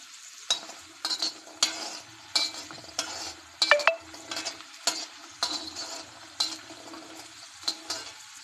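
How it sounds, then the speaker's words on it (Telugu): Food being stirred and fried in an iron pan until its skins turn golden brown, with repeated scraping stir strokes and a steady sizzle underneath, close and moderately quiet, no talking. "గోల్డెన్ రంగు వచ్చేదాకా కలపాలండి"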